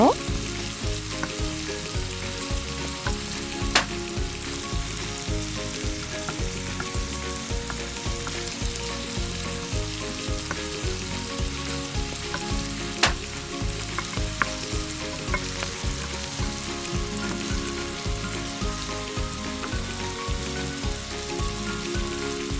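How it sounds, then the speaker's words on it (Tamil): Prawns for chilli garlic prawns sizzle and crackle steadily in hot oil in a pan, a dense, continuous frying hiss with occasional sharper pops. "ஒரு பக்கம் பொரிஞ்சு வந்தது மற்ற பக்கமும் திருப்பி விடுங்க"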